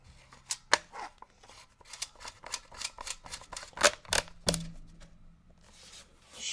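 Magazine extension being fitted onto a semi-auto shotgun: a run of sharp metallic clicks and ratchety snaps at close range, irregular and quick, with a few louder clacks near the end and no talk.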